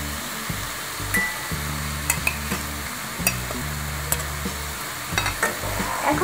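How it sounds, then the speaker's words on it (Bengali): Potatoes and carrots with spices stirred in a hot pan, a continuous sizzle broken by repeated scraping and clinking strokes of the spoon against the metal, close and alone with no talk. "এখন আমি আলু আর গাজরের সাথে ভালো করে মশলাগুলো মিক্স করে নিচ্ছি।"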